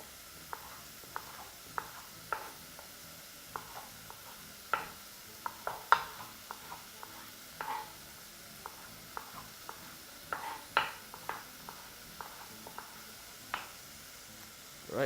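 A knife julienning carrots on a cutting board gives a string of quick, light, irregular taps, faint and close, with short quiet gaps between the strikes.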